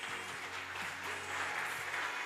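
A church congregation applauds, a brief, steady wash of clapping hands filling the room without a break.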